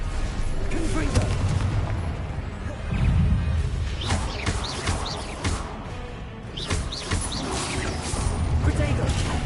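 Repeated Confringo fire spells blasting in Hogwarts Legacy, booming explosive bursts and crashes recurring through dense game combat noise, with a spoken voice heard over the action.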